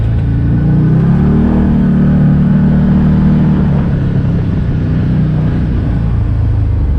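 2020 Can-Am Maverick Sport DPS UTV driving in four-wheel drive, its engine droning loud and close as revs climb and dip steadily, with constant rumble and road noise and no talk.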